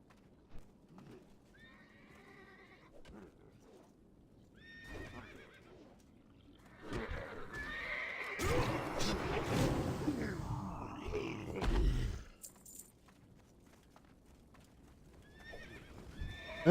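A horse in the World of Warcraft video game whinnies several times, with clip-clopping hooves and creaking between the calls and a louder, busier stretch of noise in the middle.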